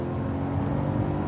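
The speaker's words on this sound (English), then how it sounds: "you can hear the engine, totally smooth" Steady, smooth car engine hum with a low drone, heard from inside the moving car during light acceleration; no voices.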